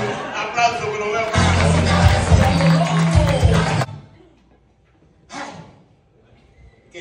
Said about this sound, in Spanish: Aplauso, que lo veo.